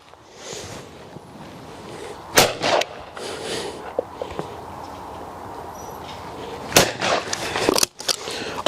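Shotgun firing Eley Select 28 gram fibre wad cartridges at clay targets outdoors: two loud, sharp reports several seconds apart, with quieter handling noises and a background hiss between them.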